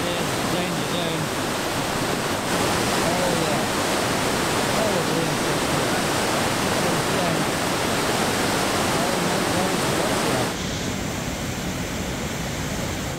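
Rushing river water on a kayaking trip on the Karnali in Nepal, a loud, steady roar of waves and whitewater filling the whole stretch, easing slightly near the end.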